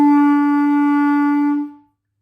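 A single sustained clarinet note played with a squishy chin embouchure, giving a muffled tone. It holds steady for about a second and a half, then fades out, heard alone without talk.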